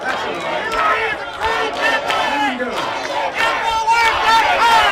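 A crowd of Trump supporters shouts and chants at an outdoor rally, a dense, steady roar of many voices rising and falling in waves, close and loud throughout.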